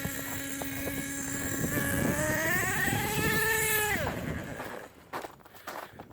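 Nitro engine of an HPI Savage X 4.6 V1 RC truck running steadily on a test run, a high buzzing whine that rises in pitch near the end before cutting off abruptly, leaving faint background noise.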